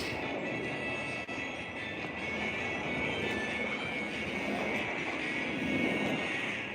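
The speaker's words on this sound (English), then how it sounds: "That's a loud-ass helicopter." A helicopter passes overhead in an urban alley setting, a loud sustained rotor and engine roar that swells gradually and stays steady throughout.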